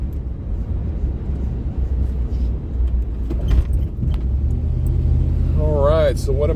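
A 1998 Chevrolet C1500 pickup engine hums steadily at cruising speed, a low continuous drone under road rumble, with a rising tonal whine near the end.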